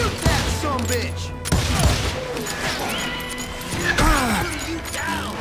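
Gunfire in the video game Call of Juarez Gunslinger: several sharp shots and crashing impacts, loud and close, in quick bursts over a busy game soundtrack, with voices speaking between them.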